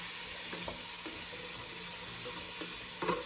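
Zucchini and tofu pieces sizzle in a hot frying pan while being stirred, with a constant hiss broken by soft scraping and knocking strokes at intervals, close and fairly steady.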